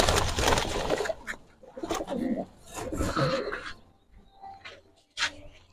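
A pair of young silver pigeons being offered for sale coo and murmur close by in dense bursts that thin out to a few scattered calls, with faint voices in the background.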